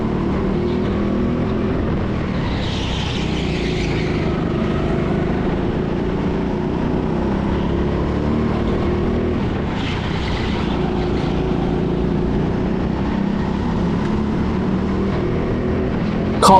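Go-karts race around the indoor TeamSport Sheffield track, engines droning continuously up close as karts battle side by side, with faint swells of other karts passing.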